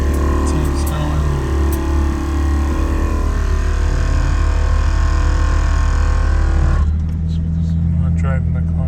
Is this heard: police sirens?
no